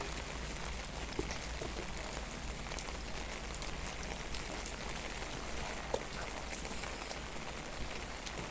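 Rain falls steadily on a vegetable garden, a quiet, even patter and hiss with occasional nearby drips standing out.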